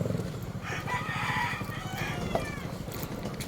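A rooster crows at a distance over steady rumbling background noise, its call rising and drawn out.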